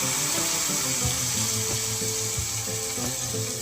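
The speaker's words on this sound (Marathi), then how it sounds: "त्यानंतर आपण त्यामध्ये पाणी ॲड करायचं" Water pours into a pot of cooked toor dal being made into amti. The pour makes a continuous, close splashing rush that holds steady with no voices.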